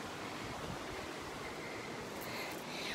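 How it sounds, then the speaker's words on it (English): A waterfall rushes at a distance, a constant broad roar of falling water that stays steady throughout with no voices over it. "So we're away from the waterfall, so it's not quite so loud."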